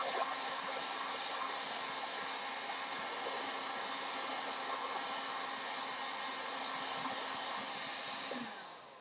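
A heat gun warms one side of a small piece of Worbla thermoplastic for armor making, a steady loud blowing whir that holds for several seconds and then cuts off.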